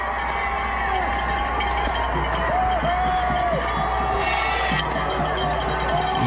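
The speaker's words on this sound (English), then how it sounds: "You hear the cheering of the rabid crowd" A crowd cheers and shouts steadily as the Stonewall Jackson statue is taken down in Richmond, Virginia, a dense continuous roar of voices with whoops rising over it.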